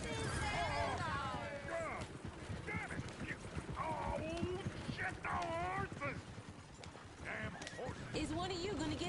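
Horse hooves clip-clop in a steady rhythm in Red Dead Redemption 2, with neighing and whinnying cries rising over them while people talk throughout.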